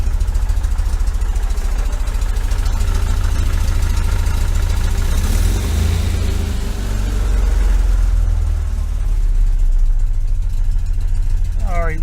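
A 1973 VW Super Beetle air-cooled engine with a Dellorto FRD 34 carburetor idles with the alternator on, a close, steady low thrum with even pulsing and a slight swell midway, ending in a brief spoken voice.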